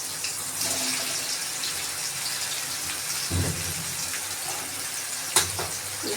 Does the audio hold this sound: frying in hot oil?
yes